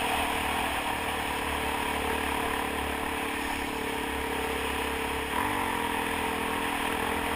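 Kawasaki KLX dirt bike engine holds a steady loud drone while the rider lifts the front wheel, with constant wind rush over it and a brief rise in pitch near the end.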